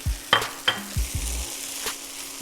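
Eggs and rice for oxtail fried rice frying in a pan, with a low constant sizzle broken by several sharp scrapes and knocks of a utensil stirring against the pan, close and fairly quiet.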